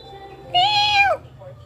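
A cat gives a single drawn-out meow lasting about half a second. It is close and fairly loud over a low background hum, and a few faint sounds trail after it.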